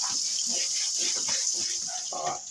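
Water streams from a tap and splashes off a surface during cleaning, a steady close hiss with uneven gurgling and splattering changes throughout.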